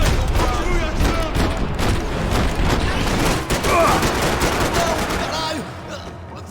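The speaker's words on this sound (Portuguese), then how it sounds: "Continue atirando! Continue atirando!" Dense, continuous automatic gunfire in the shooter game Max Payne 3, loud and close, with rapid overlapping shots and occasional heavier booms for several seconds.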